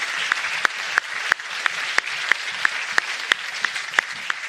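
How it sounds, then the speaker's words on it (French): Audience applause at a talk on everyday resistance to the far right in Lorient, steady dense clapping with a few sharper claps standing out, close and continuous throughout. "Je pense qu'il faut les applaudir"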